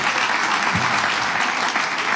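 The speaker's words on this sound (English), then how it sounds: "Give Ashley a big round of applause." A comedy show audience applauds steadily for a volunteer named Ashley, a dense, even wash of clapping that stays loud and unbroken throughout.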